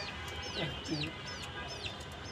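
Chicken and chick on a rooftop garden, a few soft clucks and thin peeping calls repeating at short intervals, fairly faint against low background noise.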